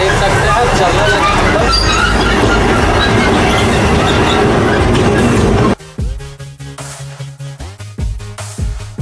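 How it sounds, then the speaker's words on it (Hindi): A toy train at an amusement park in Asansol starts up amid crowd noise, then runs with rhythmic clickety-clack wheel beats close by. "तो हम लोग का फाइनली टॉय ट्रेन स्टार्ट हो गया, देख सकते हैं चलने लगे।"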